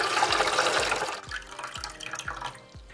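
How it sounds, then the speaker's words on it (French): Water pours into the reservoir of an Aerogarden indoor hydroponic planter, a steady splashing fill that thins into distinct drips and trickles near the end, close and alone. "Je vais remplir d'eau là, jusqu'à où est-ce qu'il y a le petit piton ici."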